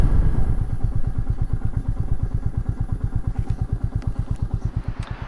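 A Royal Enfield Meteor 350 single-cylinder engine thumps close by in an even, rapid beat that slows and softens as the bike rolls in and settles toward idle.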